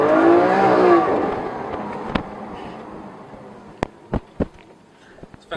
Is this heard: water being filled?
no